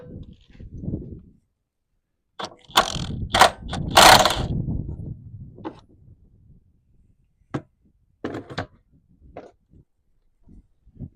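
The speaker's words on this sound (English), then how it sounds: "drain plug, and it's 27 millimeter. So let's go ahead and get this thing off." A wrench works loose a 27 mm drain plug on an RV tankless water heater: bursts of metallic clanking and ratcheting, then scattered single clicks and taps with quiet gaps between.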